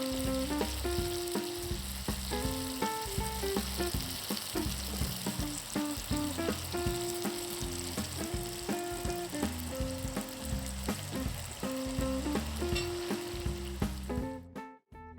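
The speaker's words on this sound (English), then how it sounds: "we're going to fry them in batches until they're nice and golden brown" Thai spring rolls deep-fry in batches in hot oil until golden brown, giving a constant dense sizzle under rhythmic background music before it cuts out at the end.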